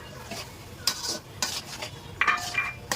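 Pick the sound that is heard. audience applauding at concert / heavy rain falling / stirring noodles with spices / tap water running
stirring noodles with spices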